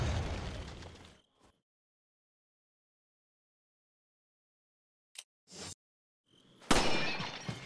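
Handgun shot smashing a vase in Resident Evil 4 on PS4: a sharp burst and crash at the start, a long silence, then a few brief clicks and another loud shattering impact near the end.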